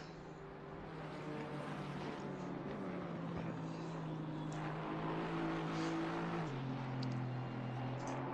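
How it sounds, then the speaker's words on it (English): Race car lapping during a NAG endurance series round at Paul Ricard, its engine note sustained and rising, then stepping down in pitch near the end as it shifts, heard from a distance without talk. "But that car does sound amazing."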